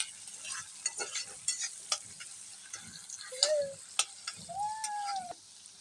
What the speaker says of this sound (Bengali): কাঁচামরিচ এবং পেঁয়াজ কুচি দিয়ে ভেজে নিলাম